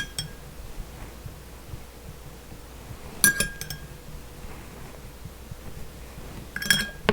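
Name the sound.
spoon stirring appetizer in a glass dish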